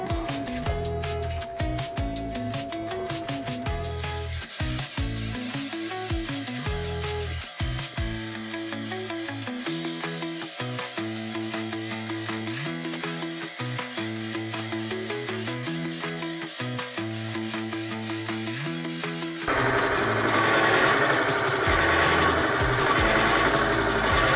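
A wood lathe whirs steadily with shifting pitch as a drill bores into an oak branch, then grows louder and rougher near the end.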